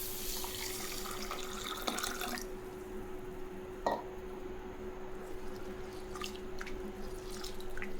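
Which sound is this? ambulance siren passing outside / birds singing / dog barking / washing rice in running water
washing rice in running water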